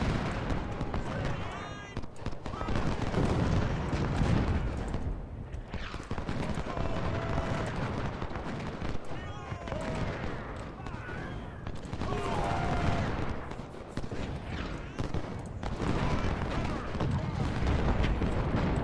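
Rifle volleys and cannon fire from a Civil War battle at Fredericksburg in Ultimate General: Civil War, dense bursts of gunfire rolling continuously over a battlefield din with someone talking over it.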